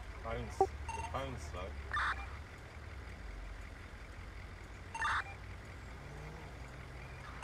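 Telephone keypad tones sound as a number is dialed, with two short clear beeps several seconds apart over quiet background hum and faint other sounds.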